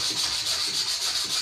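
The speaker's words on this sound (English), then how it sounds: "600 grit sanding paper" Wood is rubbed with 600 grit sandpaper in a steady, close, hissing scrape with slight back-and-forth pulses, continuous and alone with no voices.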